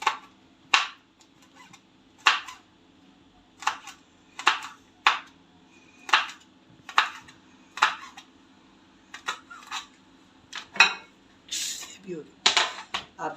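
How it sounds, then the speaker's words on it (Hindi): Knife chopping onion and green chilies finely on a board, a steady series of sharp, close taps roughly once a second, quickening toward the end, with no talk over it. "ये देखो बारीक बारीक काट।"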